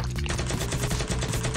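Rapid gunfire from an enemy in a video game, a dense, loud burst of rattling shots in quick succession that continues without pause.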